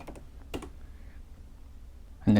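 A few soft keystrokes on a computer keyboard while entering a name in a project file, sparse quiet clicks with a louder clack at the end.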